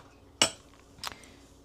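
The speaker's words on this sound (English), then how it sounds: "let me get a spoon." Two bright metallic clinks of cutlery, one sharp and one softer, as a spoon is fetched in a home kitchen while preparing freeze-dried food; close and fairly quiet, no talking.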